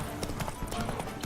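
Horse hooves clip-clopping in The Witcher 3 game, a quick, steady rhythm of hollow hoof knocks repeating close by, with someone talking over them.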